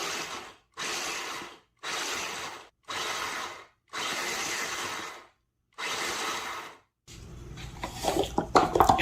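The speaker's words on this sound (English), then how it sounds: "I'm gonna just pulse this until it's coarse crumbs" A food processor pulses toasted pecans into coarse crumbs in six short, even bursts of whirring and grinding with brief silences between them, close and clear, then a clatter of handling at the end.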